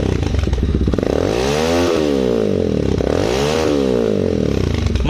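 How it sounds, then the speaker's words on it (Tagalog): A Motorstar Explorer 250 motorcycle engine with its stock muffler revs loudly and close, climbing twice from idle to a high rasping whine and dropping back, alone with no talking. "malakas na malakas actually yung kanyang muffler. Okay, so yun yung kanyang engine sounds."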